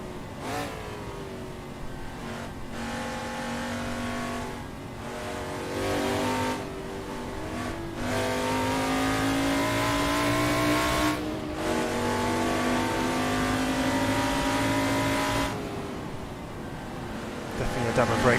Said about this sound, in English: Driving these very expensive GT cars like they are Dodgems.